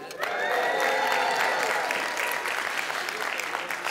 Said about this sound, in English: if you want to really applaud